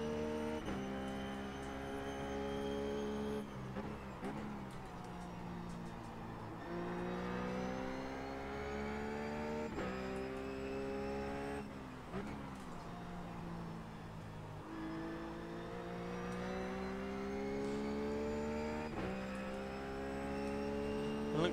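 A race car engine screams at The Glen in the iRacing sim, a loud, continuous high-revving whine that climbs through the gears, with sharp drops at each shift and downshift.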